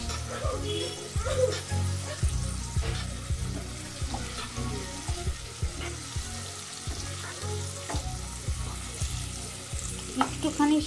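Chicken and its water frying in a pan as it is stirred, giving a steady sizzle with frequent clinks and scrapes of the spoon and a splashy, watery edge.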